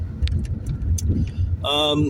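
A car rolls slowly along a track road between wetlands, its low engine and road rumble steady beneath ongoing talk, with a brief high harmonic whine near the end.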